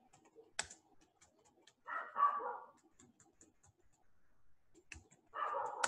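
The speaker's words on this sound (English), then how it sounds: "Okay, so you can now type here." Typing on a computer keyboard while editing a DokuWiki page: sparse, quiet key clicks and taps at an uneven pace, broken by two short louder bursts of background noise.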